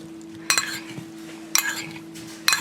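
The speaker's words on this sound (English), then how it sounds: "Now just get your spoon in here and toss it" A spoon tosses a summer side salad in a bowl, making three short, moderately loud clinking scrapes against the bowl at regular intervals, with no talk.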